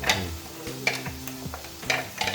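Beef fries in a pan with crushed ginger and garlic, sizzling steadily while a utensil stirs and scrapes in several distinct strokes, close and fairly loud.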